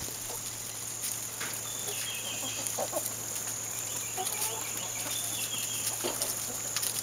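Black Star chickens cluck softly in a farm setting, with scattered short clucks and calls over a steady low background hum, fairly faint and without talk.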